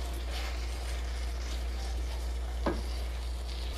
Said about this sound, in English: And stir it around.